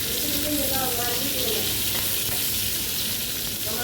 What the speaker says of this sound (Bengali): পটলগুলো ভালো করে ভাজা হতে থাকুক।